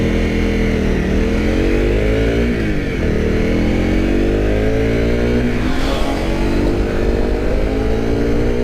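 Honda CRF 250 Rally motorcycle engine under way on a road ride, a loud steady drone with rising and falling pitch as the rider shifts and accelerates, wind rushing throughout.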